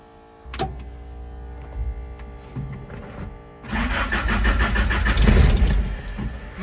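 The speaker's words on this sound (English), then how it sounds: "Think she'll fire up again? Yeah, I think so. Keyed on. Fuel pump kicked on." The diesel engine of a 1974 Chevy LUV turns over briefly after a click, then fires and settles into a loud, close, rough clattering run that continues to the end.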